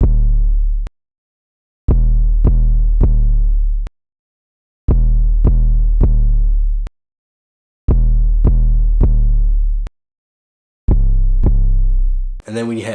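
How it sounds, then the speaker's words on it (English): Deep 808 bass line from a trap beat remake, playing booming sustained notes in short groups of three or four, separated by silent gaps and repeating four times, loud and close with nothing else alongside. "I just found this 808 bass that you hear in a lot of trap beats nowadays."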